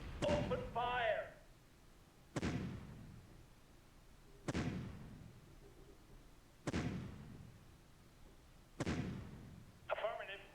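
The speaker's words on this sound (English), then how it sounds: "I think I'll want to use some bombardment." Artillery bombardment in the Shadow Empire strategy game, with five loud, evenly spaced booming impacts about two seconds apart, each decaying quickly, and brief chirping unit sounds at the start and end.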